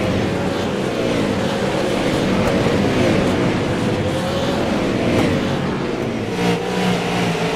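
Race cars lapping Slinger Speedway in iRacing, a loud, continuous engine roar with rising and falling pitch as cars circle the short track in a pack.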